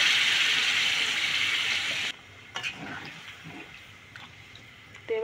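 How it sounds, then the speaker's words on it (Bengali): Water poured into a pot of Bihari-style chicken curry, a steady loud hissing gush for about two seconds that cuts off abruptly, followed by faint clinks and scrapes of a pot. "এবার দিয়ে দেবো জল আমি"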